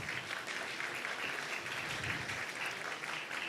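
Steady applause from a crowd, continuous and fairly even throughout, heard at a distance with no voices over it.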